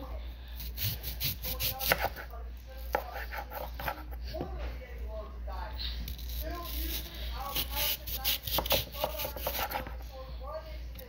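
A knife slices through an apple on a cutting surface, producing a series of close, crisp cutting and scraping strokes in an irregular rhythm, with people talking over them.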